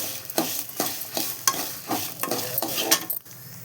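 Red chillies dry roasting in a pan for Tamil garlic podi, a steady dry rattle and scrape of stirring with repeated spoon strokes against the metal, close and continuous with no voices.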